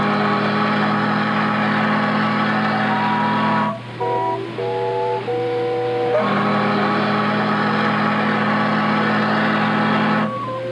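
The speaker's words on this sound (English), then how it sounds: "That's the sound of the Delta Queen out of New Orleans." Sound of the Delta Queen riverboat out of New Orleans: loud, sustained tones that shift to a different pattern midway through and then return, played alone with no voices.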